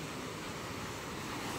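Broadband wash of sea waves at the Tanza, Cavite fish port on a calm day with small swells, a steady continuous surf with low rumbling, no voices present.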